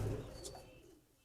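A Ferozpuri pigeon gives a short, soft coo close by at the start, which fades away quickly with no talking.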